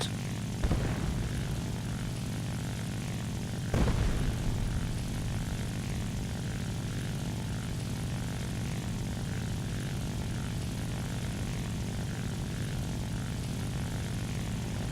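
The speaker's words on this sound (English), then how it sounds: "Now there are 4 planes advancing on Jimba's position, so I dive down to give a helping hand." Propeller fighter plane engines drone loudly and steadily as the planes dive in an aerial combat video game, with two brief bursts of gunfire or impact and no talk.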